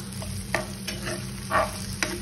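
Onion and coriander stirred in a hot pan, giving a low, quiet sizzle with a few distinct scraping strokes of a spoon against the metal, close by and without speech.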